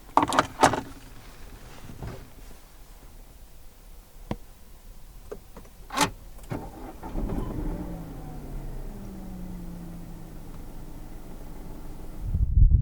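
A few clicks and a door thunk, then the 1.2 PureTech engine of a 2019 Citroën C3 Aircross cranks and settles into a steady idle, door closed, before a final louder knock.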